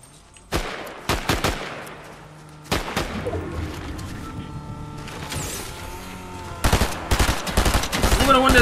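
Shots from a Fortnite match, loud sharp bursts in quick clusters near the start and again at the end, separated by quieter game ambience and engine-like hum, no voices.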